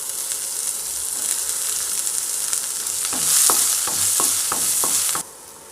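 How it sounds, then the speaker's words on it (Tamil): Sliced onions sautéing in oil in a pan for a Tamil drumstick leaves soup: a steady close sizzle, then a run of quick scraping stirs from a utensil, cutting off abruptly near the end. "வெங்காயத்தை வந்து நல்லா வதக்கிக்கலாம்"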